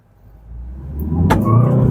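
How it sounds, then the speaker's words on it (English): A 2025 Kia Carnival SX minivan pulls away in eco mode, its engine hum swelling gradually from quiet to a steady, moderate drone over two seconds, with a brief click partway through. "Now here, gonna drive the all-new Kia Carnival."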